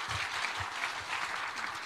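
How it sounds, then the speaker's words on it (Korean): Church congregation applauding to welcome an elder who designed a planned world Christian center, a brief, steady wash of clapping filling the room at moderate level. "우리 다시 한번 박수로 환영하겠습니다."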